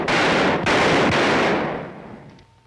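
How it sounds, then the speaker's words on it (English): Handgun shots ring out in a ballistics test, two or three sharp blasts in quick succession followed by a fading echo tail. "Man needs a little practice to group his shots closely."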